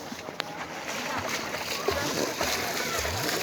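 Bathers splash in a canal below a dam, a close, continuous wash of water with sharper slaps and sloshes, and voices murmuring in the background.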